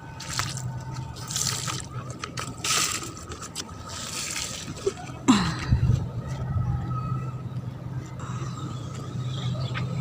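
Water dripping and trickling after rooftop garden plants are watered, with scattered drips and splashes, a brief sharper pour midway, and a low steady background hum throughout.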